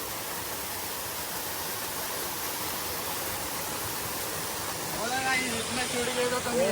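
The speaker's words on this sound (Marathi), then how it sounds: "तर हा बघा धबधबा कसा वाटतंय एकदम भारी ना." A waterfall in the Konkan region pours with a steady broadband rush that holds evenly throughout, and a voice is briefly heard over the roar near the end.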